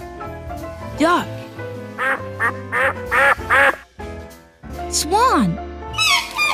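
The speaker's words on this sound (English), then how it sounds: "Duck." A duck quacks repeatedly in bursts, loud and near, with short nasal calls clustered together and irregular pauses between them.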